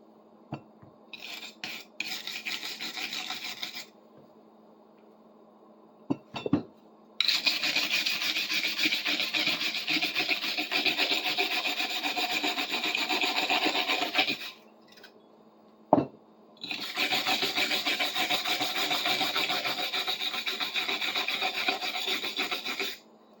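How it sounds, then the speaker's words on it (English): Harsh scrubbing rasps across the pitted steel of a WW2 rigging knife as surface rust is worked off, in long continuous bursts broken by short pauses and a couple of sharp taps. "You want to get into those pits, get that surface rust off"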